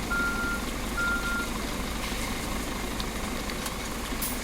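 A truck in the On The Road Truck Simulator game reverses toward a trailer, its steady beeping warning tone repeating twice over a low, continuous idling engine rumble.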